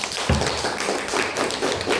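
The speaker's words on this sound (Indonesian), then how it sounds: "Tepuk tangan dulu untuk Irsyad" A classroom group claps for a student presenter in an Islamic religious education class, a brief burst of dense hand claps that sounds fairly close and steady.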